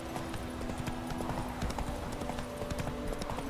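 Horse hooves clip-clop steadily in The Witcher 3, a continuous close trot with a rhythmic beat over a dense game soundscape.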